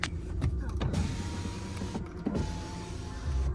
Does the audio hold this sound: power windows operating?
yes